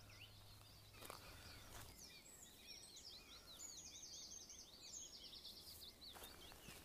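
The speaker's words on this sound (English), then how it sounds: "My goodness, the noise of different bird song, man." Many different birds chirp and sing at once around a pond in a nature area, a steady layered chorus of overlapping calls heard at moderate distance in the open air.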